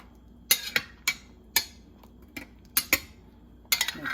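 Spoon clinking against a pot while chicken liver adobo is stirred slowly after simmering, about eight sharp metallic taps spaced irregularly, close and fairly quiet over a low kitchen hum.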